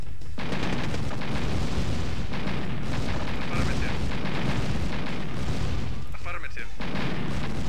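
Rocket launchers fire at tanks in Red Alert, making a dense, continuous battle din of booming blasts and gunfire-like cracks, with a voice talking over it.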